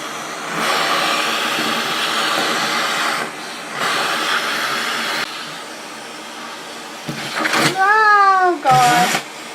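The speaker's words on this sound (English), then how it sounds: "Okay, I'm gonna vacuum this camera." A vacuum cleaner hums in long steady bursts, switching on and off as it vacuums a camera, followed by a few short squeaky whines at the end.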